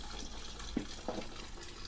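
Water runs from a Ferroli Optimax boiler as its pressure is released, a faint, steady trickle throughout.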